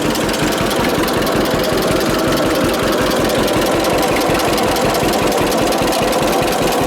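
A John Deere AR tractor engine runs steadily at a set speed while belted to an old plate grinder milling grain into flour, a loud, continuous, rhythmic chugging throughout with no talk.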